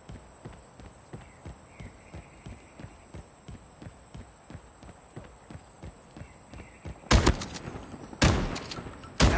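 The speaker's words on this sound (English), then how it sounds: "Sentry gun deployed." Sentry gun in Call of Duty firing a steady rhythmic stream of rapid shots, loud and close, followed near the end by several louder, harsher bursts.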